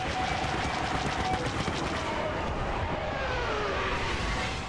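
Blaster fire in the Star Wars Battlefront Rogue One: Scarif battle crackles in quick bursts early on, then fades into a dense, continuous din of combat noise.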